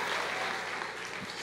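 Applause from a church congregation, a dense wash of clapping hands that fills the space evenly and steadily, heard briefly.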